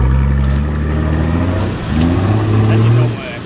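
A diesel 4.2 4WD engine labours steadily off-road while the vehicle is driven sideways across a slope, its low drone rising and falling with revs, with voices talking over it.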